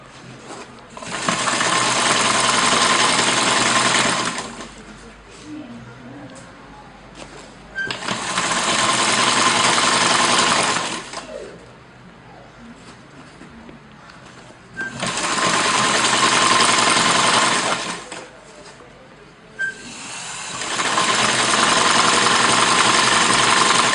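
A sewing machine stitches the base and crown of a hat, running in four steady whirring bursts of several seconds each, separated by quiet pauses.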